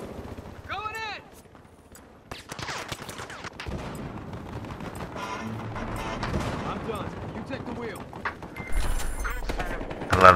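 Gunfire in the Battlefield Hardline beta crackles in rapid bursts and scattered single shots, near and far, building denser toward the end while a player talks over the action.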